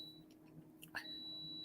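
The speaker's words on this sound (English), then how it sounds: "I'm sorry about the beeping" A thin electronic beep tone sounds faintly indoors, a brief chirp then a sustained high whine, quiet in the background.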